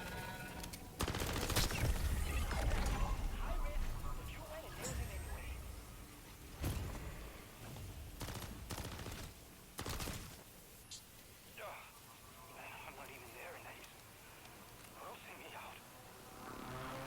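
Gunfire from a Pack-a-Punched weapon in MW3 Zombies comes in repeated bursts and sharp single shots over a busy game mix, with a voice talking over much of it.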